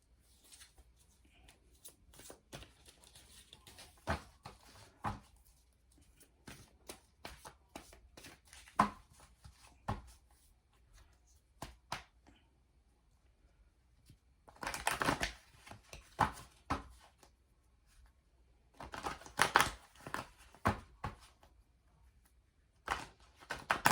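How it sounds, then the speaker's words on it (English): A deck of reading cards is shuffled by hand in quick, crisp bursts of riffling and flicking, separated by quiet pauses, close and fairly faint. "then we're going to shuffle, and we'll pull a card"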